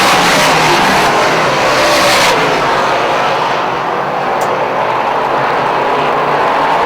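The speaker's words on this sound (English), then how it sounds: "Todd Stone is already putting a pretty good distance between himself and 2nd place runner Chris Vernold" Race cars run on an oval track, their engines a loud, dense roar that rises and swells with a faint whining sweep partway through, steady from start to finish with no speech.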